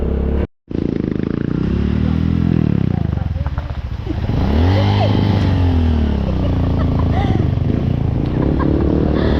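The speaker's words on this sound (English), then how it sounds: "Their bike is very small, that's why it's struggling even." Small motorcycle carrying three riders labouring up a stony, rain-soaked slope in the Philippines, its engine straining and revving in rising and falling pitch sweeps, with clatter over the rough ground.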